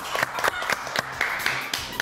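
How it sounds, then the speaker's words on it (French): A small group clapping for Sandrine on a French kids' news show, with distinct, fairly regular claps close by and no talk over them. "On applaudit très fort Sandrine."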